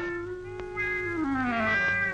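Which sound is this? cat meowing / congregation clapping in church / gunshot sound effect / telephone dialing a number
cat meowing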